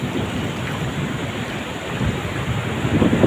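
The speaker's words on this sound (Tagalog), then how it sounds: "lalaki ng mga alon guys" Big ocean waves crash steadily at Silago, a dense, loud roar of surf with no pauses across the whole stretch.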